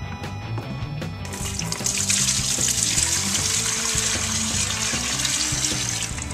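Home-distilled spirit poured into the top of a filter, a close, loud continuous stream of liquid splashing and trickling that strengthens after the first couple of seconds and runs steadily without talk.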